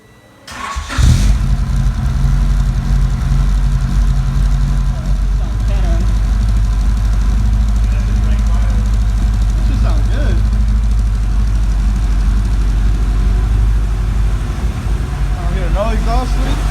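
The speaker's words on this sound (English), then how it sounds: "Let's hear an exhaust leak." A GSR EG Honda Civic with a Yonaka full exhaust fires up after a short crank, then settles into a loud, steady, close-up idle with a deep rumble, while people talk faintly over it now and then.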